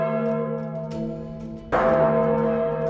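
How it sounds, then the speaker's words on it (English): A castle bell rings as a fire alarm, its sustained tolling tones hanging steadily before a loud fresh strike swells the sound midway, with no voices present. "The frequent ringing of the castle bell served as a fire alarm."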